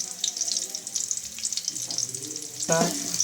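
Onions sizzle steadily in a hot pan with a bright, continuous frying hiss, broken by a brief clatter near the end.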